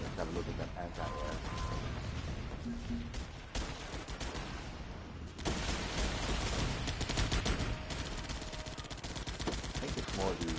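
Dense mortar and anti-air fire in the war game Guns Up, a continuous loud barrage of booms and rapid bursts with a brief dip midway before the fire swells again, a voice faintly under it.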